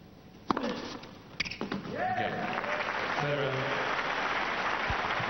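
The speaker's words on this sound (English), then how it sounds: "good to see the applause from Nalbandian." A racket strike and ball bounces at the 2003 Australian Open tennis match, then the crowd breaks into sustained clapping that continues steadily to the end.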